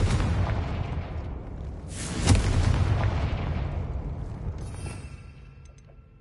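A Confringo spell blast in Hogwarts Legacy, one loud explosive boom with a sharp crack that swells into a long rumbling roar and slowly fades over several seconds.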